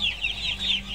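Chickens on a rabbit farm cluck in short repeated calls, fairly close and clear over a low background hum, with no talking.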